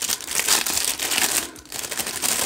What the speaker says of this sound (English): Let's unwrap all of this.